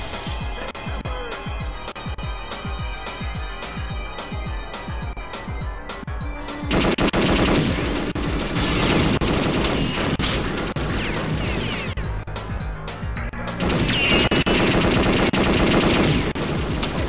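Rapid automatic gunfire from the Super Dragon rifle in the video game Perfect Dark, a dense continuous stream of shots over game music that turns louder and harsher after about seven seconds.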